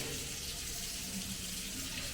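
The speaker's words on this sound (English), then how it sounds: "Fresh running water there." Fresh water running from a tap into a sink in a rental house in Kenya, a steady close hiss and splash that continues unbroken throughout.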